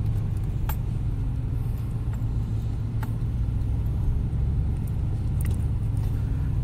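A car drives through the Al Awali district of Makkah, giving a steady, close engine and road rumble with occasional faint clicks, and no talk.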